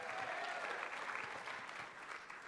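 Applause from an audience at a live talks event, a steady wash of clapping from many hands that holds throughout and tapers slightly at the end.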